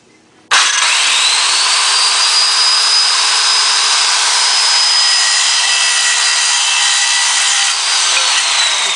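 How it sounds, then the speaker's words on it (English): A loud, continuous hand saw grinding steadily across a wooden board for several seconds, close up, with no voices. "Once again with the exceptionally loud saw."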